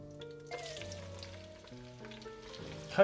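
Chicken pieces and chili sizzling in hot oil in a pan while being stirred, a steady close crackle and hiss with a brief clatter of the utensil at the end; no one speaks.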